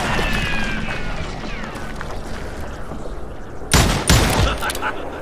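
Gunfire in the video game Call of Juarez Gunslinger, a dense, continuous spray of shots over a loud busy game mix, ending in a couple of heavier blasts or crashes near the close.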